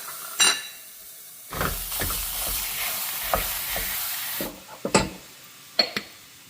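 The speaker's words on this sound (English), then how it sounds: "let's cook the ground beef first" One pound of 85/15 ground beef sizzles in a pan with a steady, close hiss. Scrapes and knocks from stirring break through it now and then.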